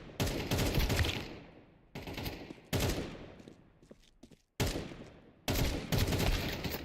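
Video game firefight with repeated bursts of automatic gunfire, several sharp loud volleys separated by brief gaps and fading tails, no talking.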